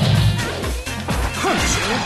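Dudley's Corkscrew Blow punch landing in Street Fighter III: 3rd Strike, a loud smashing impact amid dense game effects and music, followed by rapid hits and a swooping tone.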